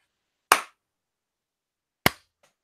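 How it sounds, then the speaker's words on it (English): Two sharp, isolated hand claps sound close and loud in a quiet room, about one and a half seconds apart, the second followed by a tiny faint tap. "Give me a clap as well in the same style, but just do one clap."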